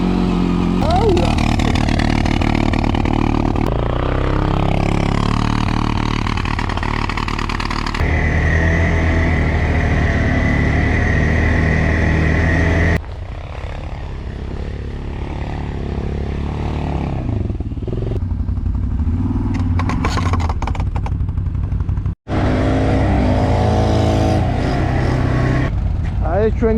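A CF Moto off-road vehicle fitted with 29-inch tyres roars loudly and steadily while riding, its engine revving and droning with clattering, under intermittent talk and a sudden brief cutout near the end.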